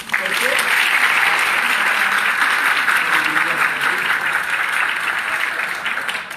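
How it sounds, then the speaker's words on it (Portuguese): Warm applause from an audience at a motivational event fills the whole stretch, steady and dense with many hands clapping at once, fairly loud and close, with faint voices mixed underneath. "Então eu queria assim uma salva de palmas muito calorosa para elas."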